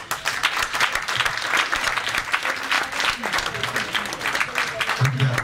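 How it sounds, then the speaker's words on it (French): Steady, dense applause from an audience at a community dinner in Les Collines de Selembao, sustained throughout with a voice speaking over it at times. "je pense que tu mérites vraiment tous nos applaudissements"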